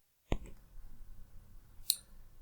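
A single sharp mouse click on a Save button in bookkeeping software, close and crisp, followed by a fainter high tick a moment later over quiet room noise.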